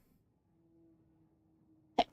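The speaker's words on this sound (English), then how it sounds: "Oh, I'm going to sneeze 1 sec." A single short, sharp sneeze bursts out near the end after a quiet stretch with a faint steady hum beneath.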